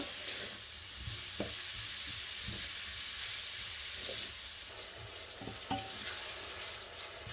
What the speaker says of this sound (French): Donc on fait revenir nos oignons jusqu'à ce qu'ils deviennent translucides